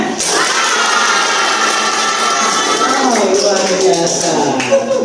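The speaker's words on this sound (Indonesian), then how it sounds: "Oke, berikan tepuk tangannya." An audience at an evening talk on student etiquette claps on cue, a dense, loud burst of applause mixed with cheering voices, while someone speaks over it.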